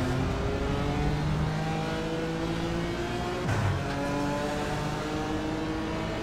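BMW race cars at a rolling start at Donington, with engines droning loudly and steadily from on board, several overlapping engine notes rising and shifting as the field accelerates.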